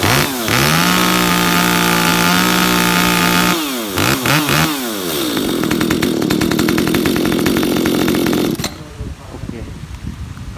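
A used Japanese ECHO chainsaw, a light 4.5 kg top-handle model, runs close by, holding a buzzing idle, then revving sharply in several bursts before settling to a rough high run and dropping away at the end.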